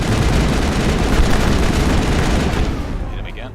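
Gunfire in the Mass Effect video game, a loud continuous barrage of booming shots and rumble that fades slightly toward the end.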